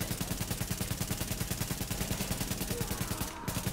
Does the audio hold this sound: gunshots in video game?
yes